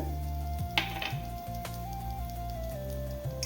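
Peppercorns, cumin, fennel, cinnamon, cloves and cardamom dry-roast in a pan over medium heat for a garam masala blend. A soft steady sizzle runs under a low hum, with a few sharp scraping stir clicks.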